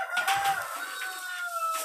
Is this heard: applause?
no